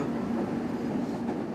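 Commuter train interior heard while running on a morning service to Chiryu in Japan: a steady, low rumbling drone with a faint rhythmic clatter, continuous and fairly loud throughout, with no talking.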